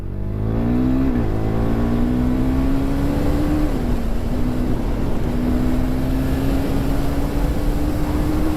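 A KTM 390 Duke motorcycle on its stock exhaust revs up close, its engine note climbing sharply and then holding a loud, sustained raw drone with a slight rise, with no talking.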